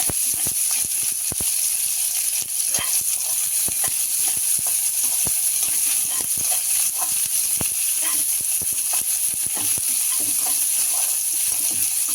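About forty small onions sizzle and crackle steadily in hot oil while tempering for sambar, a constant frying hiss with frequent sharp pops throughout.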